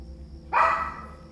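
A single dog bark from the video game Parasite Eve 2, one short, fairly loud yelp over a low steady game background hum.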